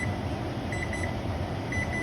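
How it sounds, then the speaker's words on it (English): A kitchen timer alarm gives repeated short high beeps in quick pairs against a steady low background hum, faint to moderate and heard alone. "the timer's going off"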